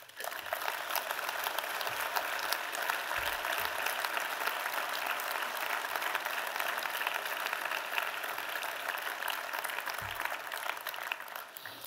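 A hall audience at a town mayor's New Year address in Voiron applauds in a steady, sustained wave of clapping at moderate level, with no voice over it and a few soft low thumps along the way.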